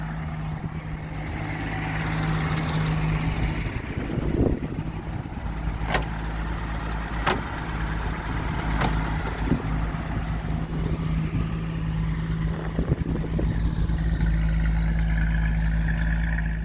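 A 1933 Oldsmobile Six engine idles steadily with a low, even rumble, joined by a few sharp clicks and some faint background noise.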